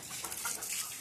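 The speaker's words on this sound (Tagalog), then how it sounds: "Mga manok." Chickens clucking softly nearby, a few short quiet clucks and chirps over a faint background hiss within a second.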